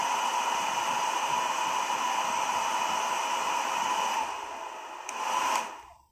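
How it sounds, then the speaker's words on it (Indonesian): A cheap budget hair dryer runs on its highest, hottest setting, a loud steady whooshing blow with a whining motor tone, then winds down and cuts off near the end; no voices. "ini kencang sekali dan ini panas"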